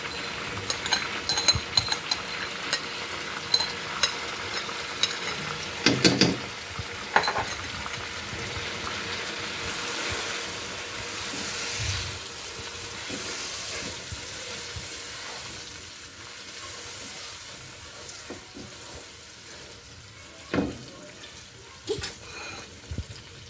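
Fried chicken sizzles in a pan as yogurt with whole garam masala spices is stirred in for a malai chicken korma, a continuous frying hiss with scraping stirs and occasional clinks of the spoon against the pot.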